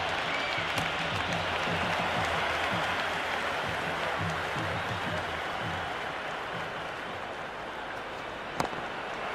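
A stadium crowd applauds and roars in the cricket video game Cricket 26, a dense, sustained wash of clapping and cheering with a commentator's voice faintly beneath it and a brief sharp knock near the end.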